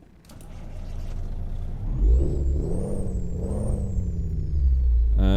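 Peterbilt 379 with a C13 engine in American Truck Simulator, a diesel idling low then rising into a revving, whirring drone that climbs and falls, with a brief hiss near the end.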